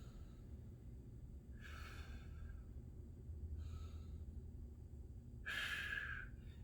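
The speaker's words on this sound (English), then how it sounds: "we're just going to take 2 deep breaths" Two deep breaths taken during a mobility stretch, each a soft breathy rush set apart by a pause, the second louder and closer, over a low steady background hum.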